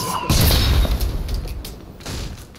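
A cannon fires in a Fortnite match: a sudden heavy boom followed by crashing debris and rumble, with a second, smaller impact shortly after.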